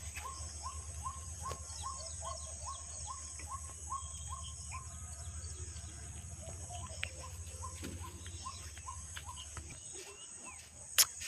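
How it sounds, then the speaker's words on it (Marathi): In a green monsoon jungle at evening, a bird repeats a short call in a steady rhythmic series, fairly faint, over a constant hum of insects. "पक्ष्यांचा सुद्धा आवाज येत आहे छान प्रकारे मस्त."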